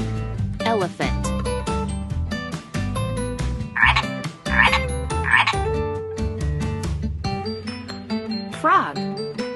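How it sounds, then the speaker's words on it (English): A frog croaks loudly in a repeated run of raspy calls, with several bursts close together midway, over steady background music. "Frog."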